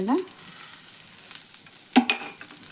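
Chopped cabbage hits a hot tawa with a little oil, giving a short sizzle and scrape at the start and another burst near the end, with quiet gaps in between.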